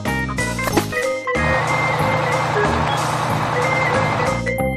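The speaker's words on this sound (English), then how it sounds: "Dump truck." A dump truck's reversing alarm beeps in a steady repeating pattern, loud and close, over a rumbling engine, with a brief pause near the start before the beeping resumes continuously.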